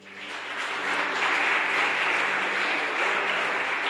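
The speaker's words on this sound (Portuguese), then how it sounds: "Eu queria que você aplaudisse a Deus pela vida dessa moça" A church congregation in Fernandópolis breaks into applause, the clapping swelling over the first second into a full, dense and steady roar.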